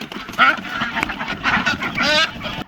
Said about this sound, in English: ducks are quacking here, so I'm gonna come out back and grab the ducks first